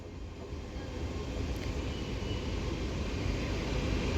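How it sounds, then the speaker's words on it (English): A TransPennine Express class 802 train pulls into Newton-le-Willows station, a steady low rumble that swells gradually as it draws nearer, with no voices over it. "now arriving in is going to be the 1644 Transpennine Express service to Newcastle from Liverpool Lime Street"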